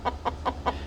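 A broody hen gives an unusual clucking call, four evenly spaced short clucks in quick rhythm, close and moderately loud over a low background hum.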